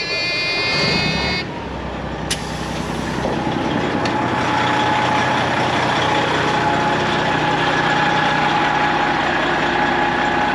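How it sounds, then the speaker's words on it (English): A classic semi truck's diesel engine idles steadily and loud, close by, building air pressure for a trailer's brakes, with a brief hiss and clank near the start. "I'll turn on the truck anyways, because I want to build air on my trailer."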